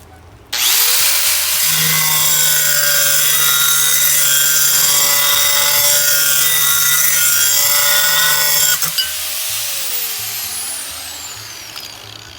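A power saw cuts through bathroom floor tile in one long, loud, continuous grinding pass, whining steadily and then spinning down as the cut ends.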